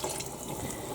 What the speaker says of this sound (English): So you want to put a couple cups of water.